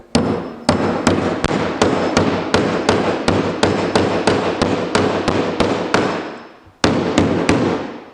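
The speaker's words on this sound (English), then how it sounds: "You can see as I hammer that in" Rapid, steady hammer blows driving pinch dogs into glued wood, about two or three per second, loud and close, with a short pause before a few final strikes.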